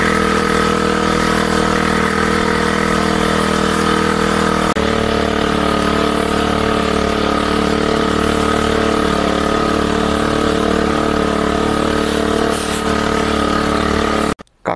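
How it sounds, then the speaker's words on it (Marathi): A small engine-driven pump runs steadily and loudly up close while spraying pesticide on a cucumber crop, droning without a break and shifting pitch slightly partway through before stopping abruptly at the end. "पहिले काकडीची फवारणी करू, आणि मग गव्हाकडे बघू"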